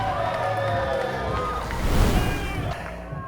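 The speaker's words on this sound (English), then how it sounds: "this crowd could not be any happier" A wrestling crowd at a Last Warrior Standing Rumble event cheers loudly and steadily, swelling midway, with excited babble mixed into the roar.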